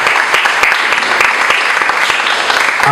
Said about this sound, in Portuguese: Dá uma grande salva de palmas para o Senhor bem forte.